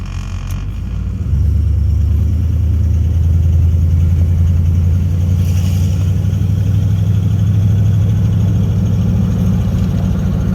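A 1967 Lincoln Continental fitted with Holley Sniper EFI drives along, its engine a loud, steady low drone that settles in after the first second and holds evenly throughout, with no talking.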